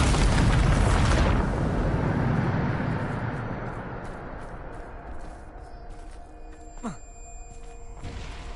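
The Bombarda spell exploding in Hogwarts Legacy, a loud booming blast that rolls off into a long fading rumble with faint game tones and small effects afterward.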